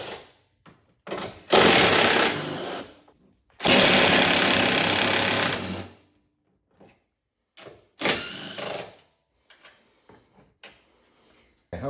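A power tool removing the strut tower brace bolts from a 2013 Ford Taurus SHO: loud close buzzing whirs in three main bursts of one to two seconds, separated by silence and small clicks.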